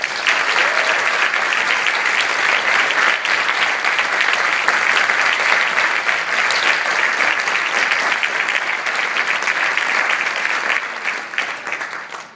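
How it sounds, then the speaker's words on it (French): Sustained, dense applause from a large seated crowd fills a youth parliament chamber, steady and loud for several seconds before tapering slightly at the end. "je voudrais que vous vous applaudissiez"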